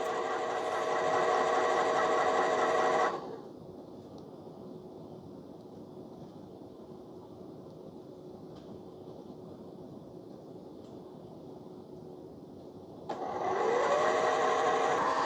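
A Cuisinart DCB-10 cold brew coffee maker whirs with a steady motorized hum for about three seconds, drops to a quiet low drone, then spins up loudly again near the end, alone without talk.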